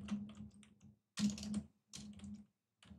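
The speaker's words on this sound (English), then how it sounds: "I'm just going to type in" A computer keyboard clatters in three quick bursts of keystrokes, separated by short pauses, as a custom message is typed into laser-engraving software; the clicks are close and moderately loud over a low steady hum.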